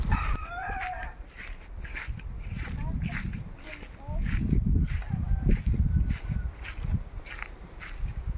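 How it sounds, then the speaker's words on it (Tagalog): Chickens and a rooster on a rural Philippine property, with a rooster crowing near the start and scattered clucks, mixed with footsteps and people talking nearby. "Laki ng manok dito."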